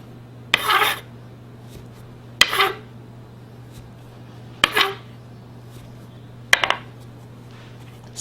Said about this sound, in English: Now we're just going to cut the biscuits out.